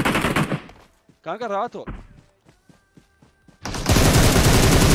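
M62 gunfire in PUBG Mobile: loud dense bursts of rapid automatic fire open and close the stretch, with a short electronic warbling tone and scattered quiet game clicks between them. A voice speaks briefly in the middle.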